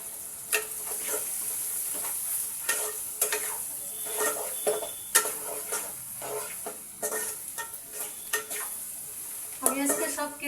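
Spinach fries in a pan with turmeric just added, crackling under a steady hiss while a spatula scrapes and clacks against the pan in irregular strokes, with a brief flurry of scraping near the end.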